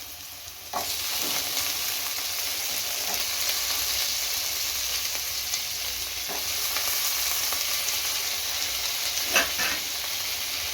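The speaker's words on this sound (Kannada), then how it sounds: "ಇದನ್ನು ಸ್ವಲ್ಪ ಫ್ರೈ ಮಾಡ್ಕೋಬೇಕು" Chopped beans and carrots fry in hot oil for vegetable fried rice, giving a steady close sizzle with a few louder stirring scrapes against the pan and no talking.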